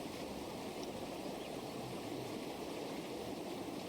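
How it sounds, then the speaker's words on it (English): Rough stream water flows and rushes as a sound effect, a steady, dense, even babble with no talking over it. "enjoying that flowing, running, rough water"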